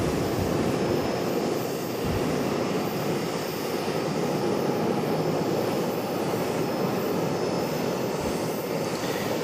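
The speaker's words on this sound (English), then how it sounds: "PSA Airlines coming in from Philadelphia, CRJ" PSA Airlines CRJ-701ER regional jet arriving at Charlotte airport, its engines a steady, loud, broad roar that holds level throughout without any talk.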